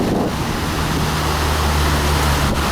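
A swollen river after a typhoon in Japan, carrying garbage and debris, rushes as a loud, constant roar of water mixed with wind buffeting the microphone, with a low steady hum underneath.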